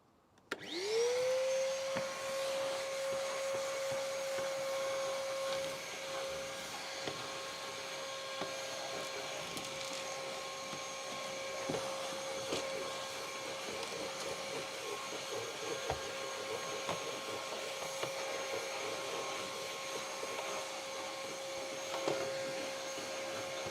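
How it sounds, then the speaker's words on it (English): A vacuum cleaner is switched on and runs steadily and loudly for over twenty seconds, a strong constant drone heard alone, inside a van being built out. "I'm just going to do another vacuum."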